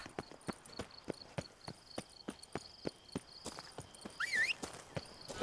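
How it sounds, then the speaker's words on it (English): The horse Roach gallops in The Witcher 3: Blood and Wine, a fast steady run of crisp hoof clops with faint tack jingles and a brief whinny-like cry near the end, fairly quiet with no talk. "Okay, Roach, are you prepared to run now"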